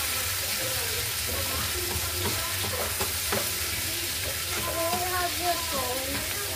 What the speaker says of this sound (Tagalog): gigisa ka na yung sibuyas. Sa olive oil.